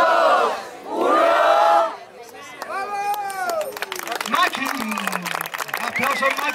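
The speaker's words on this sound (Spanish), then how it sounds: "Aplausos, Maki Guerrero, hermano" Crowd at a breakdance battle final cypher erupts in loud shouts and cheers after a countdown, with excited voices, whistles and scattered clapping building through the moment.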